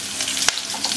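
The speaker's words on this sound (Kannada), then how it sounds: "ಅರ್ಧ ಈರುಳ್ಳಿ ಅಷ್ಟು ಕಟ್ ಮಾಡಿ ಹಾಕೊಂಡಿದ್ದೀನಿ." Chopped onion and curry leaves sizzle in hot oil as a tempering for Andhra-style bottle gourd dal, a continuous close frying crackle broken once by a brief scrape of the spoon.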